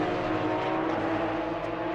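Porsche Cup race cars on track in Hungary roar steadily at close range, the engine note holding loud and dense through a downshift with no pause.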